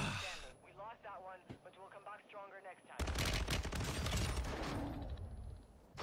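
Weapons fire in Apex Legends erupts halfway through as dense, loud bursts of gunshots. Before that, a person talks briefly over quieter game sounds.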